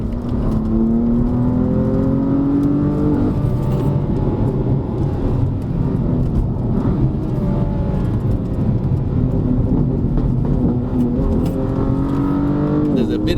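A BMW M4 engine revs hard on a mountain test drive at Genting, a loud steady drone with rising whine, carrying a slight misfire around 4,000 rpm, with a voice talking over it inside the car.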